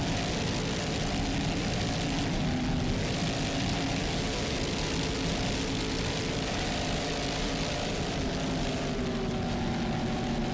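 A racing powerboat driven by twin 800-horsepower Mercury inboard engines roars continuously at a world championship race, a dense, steady engine drone with no voices over it.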